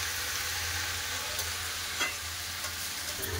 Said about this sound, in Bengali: এবার খুব ভালো করে নেড়ে চেড়ে মিশিয়ে নেবো।